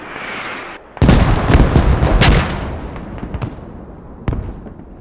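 A mortar barrage in a squad-based war video game lands as a loud cluster of booming explosions, with several rapid blasts followed by a rumbling tail and one more sharp impact near the end.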